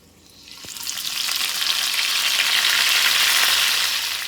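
Cornmeal-coated okra dropped into a hot pan, the sizzle swelling quickly into a loud, steady, close frying hiss after a small clack at the start.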